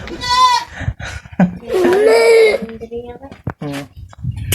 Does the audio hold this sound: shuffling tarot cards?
no